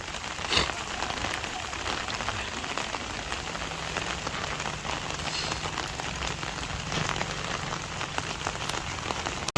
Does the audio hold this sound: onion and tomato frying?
no